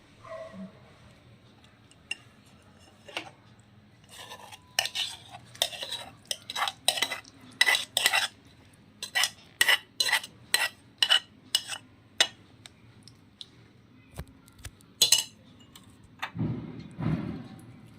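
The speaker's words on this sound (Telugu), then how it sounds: "నెక్స్ట్ మనం ఒక సర్వింగ్ బౌల్లోకి దాన్ని కూరని తీసుకుందాం." A metal spoon clinks and scrapes against a pot and serving bowl while lotus seed (phool makhana) curry garnished with coriander is ladled out, with a quick series of sharp taps and scrapes and no talking.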